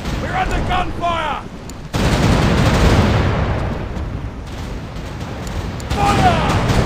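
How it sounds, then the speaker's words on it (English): Loud bursts of gunfire and booming ship cannon blasts in a pirate naval battle game, over a dense rumbling battle noise, with brief shouted voices at the start and end. "We're under gunfire."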